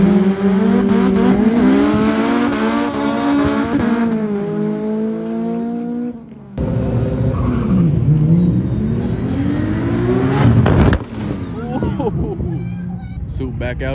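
A Toyota MK5 Supra with a burble exhaust tune revs hard, engine pitch climbing and falling in loud sweeps, a sharp cut, then more revving and crackling pops, with people talking over it.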